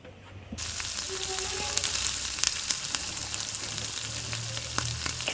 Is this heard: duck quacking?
no